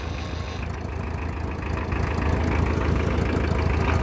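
Tractor engine idles and runs steadily up close, a loud low chugging that grows slightly stronger midway, with no talk.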